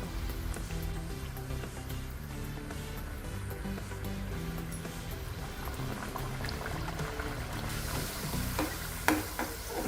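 Tilori, a traditional Maharashtrian sesame snack, deep-frying in oil over medium heat until golden on both sides, giving a steady bubbling sizzle with occasional stirring clinks throughout.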